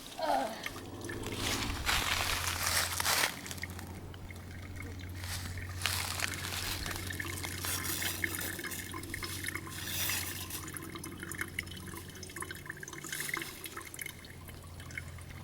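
Water drips into a bottle at a campsite on Pine Mountain, soft and close, with irregular small drips and trickles over low background noise.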